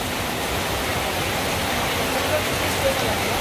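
Heavy rain falls at night in Raipur, a dense and steady hiss that holds at the same level from start to finish.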